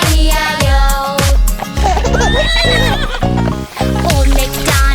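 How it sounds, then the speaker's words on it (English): In an animated children's Old MacDonald farm song, a loud horse neigh and whinny rings out over bouncy music, with clip-clop hoof beats tapping in rhythm. "And on this farm he had a horse, E-I-E-I-O. With a neigh-neigh here and a neigh-neigh there"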